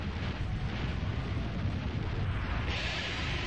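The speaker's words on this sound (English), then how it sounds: "a spirit of flame soars up into the air, comes back down, boom, everything's dead" A flame spirit spell blast from the video game Eternal Eyes, a sustained, dense roaring rumble that fills the whole clip at steady loudness, with a brighter hissing wash rising near the end.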